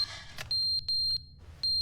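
Fire alarm in The Stanley Parable video game beeping in short, bright, evenly pitched bursts, about four or five irregularly spaced chirps over a low background hum.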